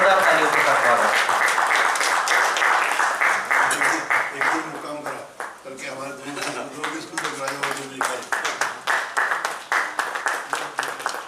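Loud, dense applause welcoming an award recipient at an award ceremony in Nagpur, rhythmic clapping that dips briefly midway and then picks up again, without talk.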